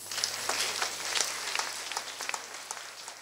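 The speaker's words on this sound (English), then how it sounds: "can you help me clap for your mother, Abel?" A crowd at a sold-out comedy show in Abuja claps for mothers: a fairly faint, distant patter of applause with scattered sharper claps standing out, continuing evenly.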